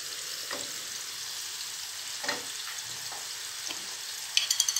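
Steady hiss of food roasting in a hot pan on the stove for Turkish yayla soup, with a few soft stirring scrapes and a brief clatter near the end.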